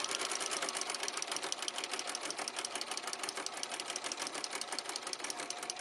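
Sewing machine running steadily with a pleater foot, folding fabric into pleats on an apron, a fast even stitching rattle with regular clicks from the pleating mechanism, close and continuous with no talk.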